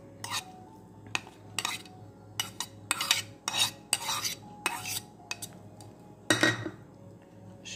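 Couscous being mixed with onion and tomato in a bowl, a utensil scraping and clinking in a run of short irregular strokes, close and fairly quiet with no talk.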